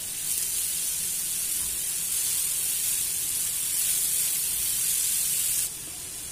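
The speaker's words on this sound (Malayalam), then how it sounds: "അപ്പോൾ ഇനി ഇത് നമുക്ക് എണ്ണയിലേക്ക് ഇട്ട് കൊടുത്തിട്ട് നന്നായിട്ട് വഴറ്റി എടുക്കാം നല്ല സവോള നല്ല പോലെ സോക്കായി നന്നായിട്ട് തന്നെ വഴഞ്ഞു കിട്ടണം" Onions sautéing in oil in a pan for chicken donuts: a constant, even sizzle with bright hiss that holds steady and then drops slightly in level near the end, with no talking.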